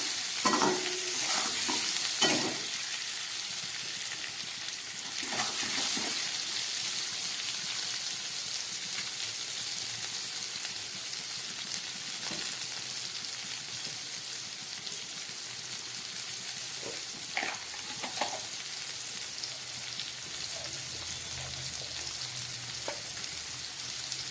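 Drumstick stems frying over medium gas in a pan with a steady hiss of sizzling, occasional scrapes and knocks of a spoon stirring them.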